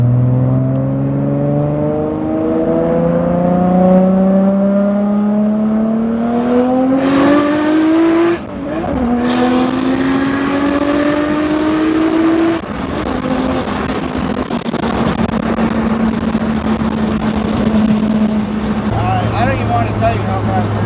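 A Nissan Skyline R32 GTR with a big single turbo revving hard, its engine pitch climbing through gears with quick breaks at the shifts before settling into a steadier cruise, loud and close from inside the car.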